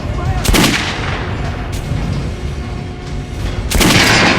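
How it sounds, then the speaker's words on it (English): Gunshots fired at an armored training dummy in the shooter Metro: Last Light Redux, two loud separate blasts a few seconds apart with a steady low background between them. "Now shoot the armored dummy."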